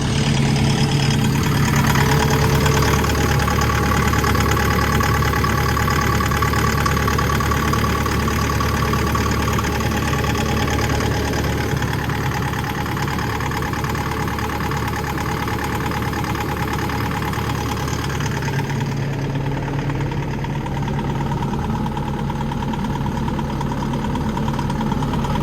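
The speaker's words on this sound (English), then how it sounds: "Not the sweetest sounding engine I've ever heard, like. But it's working." A Takeuchi excavator engine idles after repair, a loud, steady diesel rumble with a slightly rough, knocking edge running unbroken for the whole stretch, close by and without talk.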